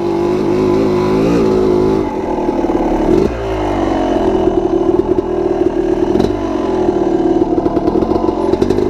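A motorcycle engine revs and accelerates hard in second gear, a loud, close, continuous droning roar with rising pitch sweeps and a few gear-change dips.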